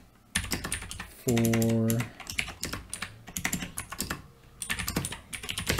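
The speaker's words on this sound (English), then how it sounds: "can't type today" Python code typed on a computer keyboard: brisk, irregular clusters of close, clicky keystrokes with brief pauses and a sustained tone partway through, while someone speaks a word or two.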